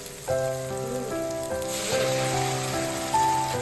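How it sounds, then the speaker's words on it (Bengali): Boiled red lentils poured into a hot pan of lightly fried onions, giving a steady hiss of sizzling with music playing over it throughout. "এই সিদ্ধ মুসুর ডালটা আমি এখানে ঢেলে দেবো"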